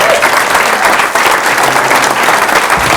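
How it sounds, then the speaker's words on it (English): Loud, sustained audience applause at a live show, a dense crowd of hands clapping continuously and close, with no break across the whole stretch. "Give him a nice round of applause."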